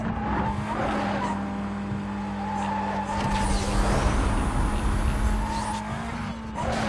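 Tires squeal steadily as a car drifts through a curve in Need for Speed Most Wanted, with a constant engine drone underneath, loud and close throughout.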